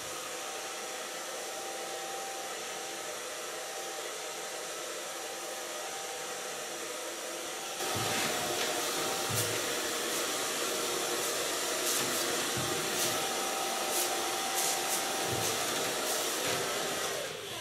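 A hair dryer blows on freshly dyed purple hair during a bob haircut, a steady loud whoosh that jumps to a higher, harsher setting about halfway and keeps running without talk.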